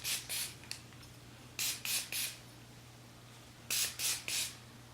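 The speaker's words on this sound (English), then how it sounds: "I'm gonna spray some texture spray in there just to kind of help break everything up" Kenra texture spray hisses from an aerosol can onto hair in short paired bursts, three clusters of quick sprays with pauses between them, close and crisp over a low steady hum.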